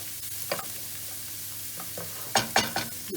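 Soft sizzling of onions in a frying pan, with a few scraping stirs and clinks of a utensil, close by and fairly quiet.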